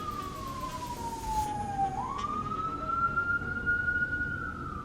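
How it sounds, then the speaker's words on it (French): An ambulance siren wails as it passes along a boulevard, its pitch sliding down and then rising again over steady traffic noise, loud and close. "Ambulance. Je vous confirme, c'est une ambulance."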